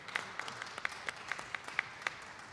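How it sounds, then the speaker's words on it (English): A small audience claps for an assemblymember at a briefing on Africana studies, a short round of sparse, distinct hand claps at a steady rhythm, fairly faint and with no voices over it. "You should clap with that one"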